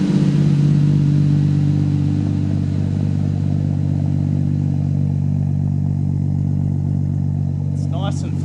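A turbocharged car engine idling on ethanol just after a cold start, a loud, steady low drone held close and unbroken, with a brief higher burst of sound at the very end.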